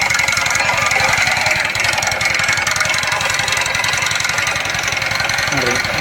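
A single-wheel weeder machine's small engine runs steadily and loud throughout, with a rapid low chugging pulse and no pauses.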